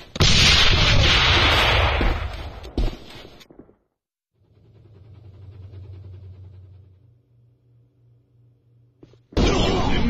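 A grenade explodes in the shooter game Alliance of Valiant Arms: a loud, dense blast with crackling debris fills the first three seconds, cuts to a lower rumbling hum, then a second loud burst strikes at the end.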